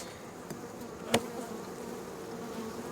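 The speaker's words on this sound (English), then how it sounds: "the bees are putting nectar in where her pattern was" Honey bees buzz around open hive frames in a dense, steady drone, one bee passing close in a brief louder burst.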